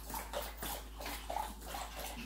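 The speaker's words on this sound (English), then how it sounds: "He's drinking water." Casper the dog laps water in quick, wet sloshing bursts, close and fairly quiet over a low steady hum.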